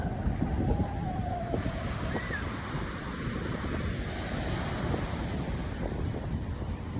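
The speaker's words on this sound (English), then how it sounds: "This is the main beach." Steady wind and surf wash on the main beach at the Planet Hollywood Cancun resort, with a continuous broadband roar of waves and gusting wind buffeting the microphone throughout.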